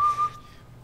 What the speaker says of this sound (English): I thought it was whistling green sleeves.